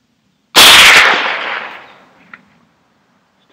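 A single sharp crack from a Ruger 10/22 rifle in a Magpul X-22 Hunter stock fires outdoors and fades into a long echoing tail, followed by a faint click and the onset of another shot at the very end.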